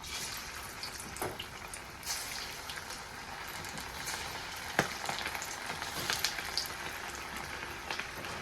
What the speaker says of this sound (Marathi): एक एक पीस उचलून तेलामध्ये टाकून घ्यायचं आहे तेल छान असं तापलेलं आहे